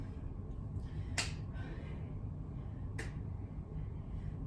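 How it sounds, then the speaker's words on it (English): Two sharp, isolated hand claps during a HIIT ab exercise, about two seconds apart, each clap made behind a raised knee, standing out crisply against a low background hum. "As you pull your right knee in, clap behind it, and then lower."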